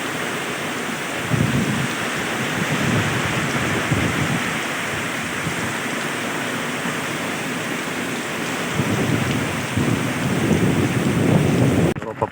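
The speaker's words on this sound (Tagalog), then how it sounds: "ang lakas ng hangin grabe" Strong typhoon wind during Typhoon Kristine in Masbate roars and buffets the microphone continuously, with gusts surging louder near the start and end, like stormy surf.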